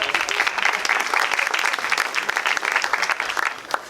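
An audience applauds a music trio at an outdoor concert in Schladming, giving steady, dense clapping for about four seconds without a break.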